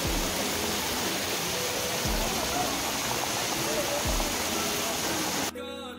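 Heavy rain pours during bad mountain weather on the Amarnath trek near Pahalgam, a close, dense, constant rushing hiss with occasional low thumps that cuts off abruptly shortly before the end.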